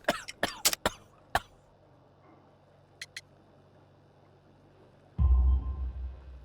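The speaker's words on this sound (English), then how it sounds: "You have a severe cough." A man coughs in a Sherlock Holmes video game, a coal worker with dust in his lungs: a burst of several harsh, close coughs at the start, then two faint short ones, before a loud low rumble takes over.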